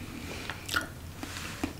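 Crunchy Japanese snack with shrimp and seaweed chewed close up, a few soft crunchy bites at a quiet, steady pace with no talking.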